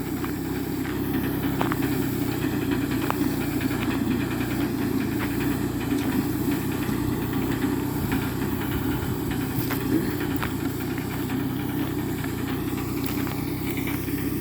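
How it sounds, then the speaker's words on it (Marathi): A small tractor engine runs steadily throughout while spraying an orchard, a continuous low rumble with knocking vibration, close and fairly loud, no talk. "मुद्दाम म्हणून छोटा ट्रॅक्टर आपण आणलेला आहे।"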